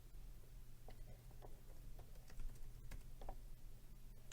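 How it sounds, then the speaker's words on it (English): Keystrokes on a computer keyboard entering names into a classroom seating chart, a quiet irregular run of soft clicks over a steady low hum. "they could just start typing in the box."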